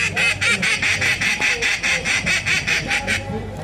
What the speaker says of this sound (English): And then you start to hear the mallard wake up on the foreshore.